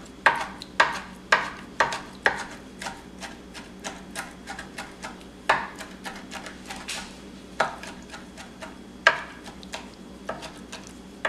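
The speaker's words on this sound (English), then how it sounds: "We're going to take a couple of those out and chop them up nice and fine." Knife chopping canned chipotle peppers finely on a board: a run of sharp, close taps, fast and irregular, some louder strokes among quicker lighter ones, with no talking.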